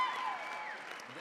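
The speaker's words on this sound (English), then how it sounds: "He's over there clapping for you." Audience applause at a live talk show taping, a steady patter of hands clapping throughout with a murmur of the crowd and some talking layered in.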